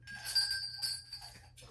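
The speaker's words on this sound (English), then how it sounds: "Then I have these bells right here, these gold bells, and these came from Hobby Lobby as well." Small gold decorative Christmas bells ringing with bright, tinkling jingles that swell and fade in a couple of quick shakes, heard close up with no speech.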